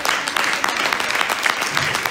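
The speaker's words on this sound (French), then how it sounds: "Je pense qu'on peut applaudir" An audience applauds at a hypnosis stage show, with dense clapping that is loud and steady throughout.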